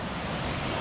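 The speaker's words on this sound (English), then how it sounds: "Pretty big little waterfall." Meigs Creek Cascades waterfall sends up a loud, steady roar of rushing water, close and unbroken for a brief moment with no talk.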